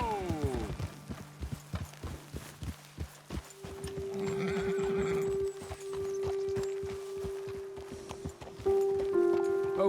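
Horses in the Red Dead Redemption II video game clop along with steady hoofbeats, then one lets out a long, loud neigh and whinny over the continuing footfalls.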